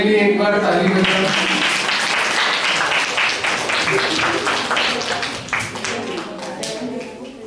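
Audience at a National Girl Child Day gathering clapping steadily in a fairly loud, sustained round of applause that slowly tapers off.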